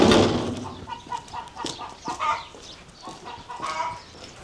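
Chickens cluck and murmur in a straw-lined chicken run on a farm in Central Portugal, a steady scatter of close, uneven clucks with scratching noises.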